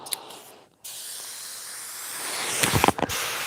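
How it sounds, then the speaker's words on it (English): A spray gun blasts out paint thinner in a hissing jet, part of a BMW E36 M3 Cerakote job. After a short opening burst and a brief pause, a long continuous spray follows, with a few sputtering pops near the end. "I'm gonna spray out the thinner real quick over here"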